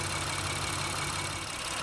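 A 2017 Honda Pilot engine, freshly given a direct injection valve cleaning, idles smoothly with a steady low hum and no gaps, close and alone with no talking.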